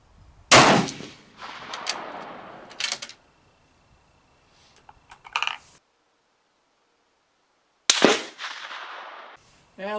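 M1A rifle at an outdoor shooting range, two sharp loud gunshots several seconds apart, each trailing off in a rolling echo, with a few softer mechanical clicks between.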